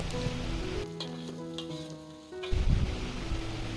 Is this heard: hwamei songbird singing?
no